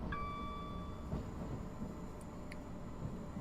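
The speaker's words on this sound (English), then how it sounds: "Pulling into platform 2 at Selhurst." A Class 377 electric train pulling into platform 2 at Selhurst in Train Simulator, a steady rolling rumble with a brief high tonal whine at the start and faint clicks, constant and moderately quiet.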